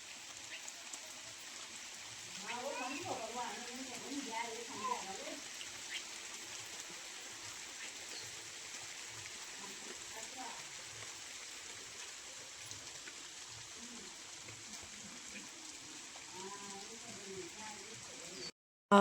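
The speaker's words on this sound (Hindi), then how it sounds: "थोड़ा थोड़ा ही लगी है, वैसे ज़्यादा तेज़ बारिश नहीं है।" Light rain falling on a rainy day at the arrival of Basant Panchami, a steady soft hiss of drops that continues throughout, with someone talking intermittently over it.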